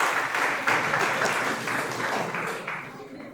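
Audience applause at a formal lecture on upholding justice, a steady broad patter of clapping that holds evenly for a few seconds before thinning out toward the end.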